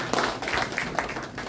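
An audience at an exhibition opening ceremony gives a short burst of applause, a brief patter of many hands clapping at moderate loudness, with no speech over it.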